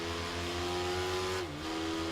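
A fully upgraded motorcycle engine in the racing video game Ride 3 gives a steady, tonal drone at a constant pitch that briefly drops, as if shifting gear, then settles again.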